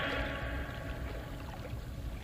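A fountain splashes steadily in a broad, continuous water rush that is fairly loud and close, with no other sound over it.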